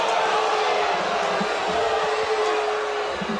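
Baseball crowd at an Ole Miss home game against Iowa, a loud, steady wash of stadium noise with scattered shouts and cheers rising throughout, dense and continuous from start to finish.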